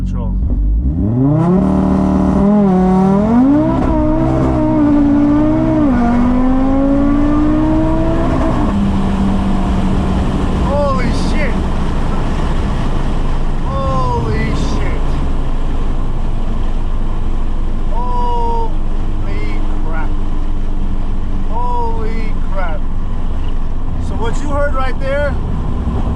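An Audi RS3 with billet engine mounts does a launch-control start with traction control off: the engine holds high revs, then roars up through the gears in rising sweeps, with a brief dip at each shift, under loud wind and road noise.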